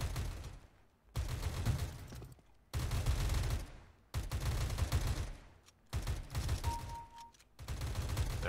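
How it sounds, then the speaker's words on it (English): Gunfire in CS:GO comes as repeated loud bursts of rapid automatic fire separated by brief gaps, about six volleys in a row. "How many times we shoot that motherfucker?"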